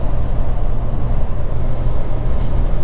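A Ram 1500 EcoDiesel truck tows a load up a highway hill at speed, heard from inside the cab as a loud, steady, low engine and road drone with no break.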